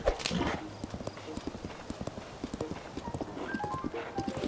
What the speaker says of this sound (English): There's even wild horses here